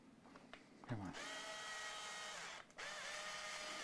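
A cordless drill struggles while working on an Ibanez Gio guitar: a close, whining motor starts after a brief clunk, runs with a strained tone, cuts out for a moment, then whirs again, with no talk.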